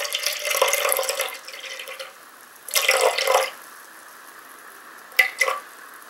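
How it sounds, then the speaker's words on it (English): Cold water runs from a kitchen tap for bread dough in three bursts: a steady flow of about two seconds, a shorter gush, then a brief final splash, with no talk. "of cold water from the tap"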